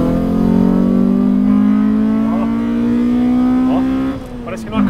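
Honda Civic fitted with a swapped naturally aspirated B16 VTi engine revs hard while accelerating in second gear, a loud, steady rising drone climbing in pitch up close, with a brief shift dip near the end and a voice talking over it.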